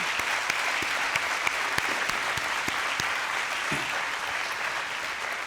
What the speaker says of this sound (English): Let's give them a round of applause, please.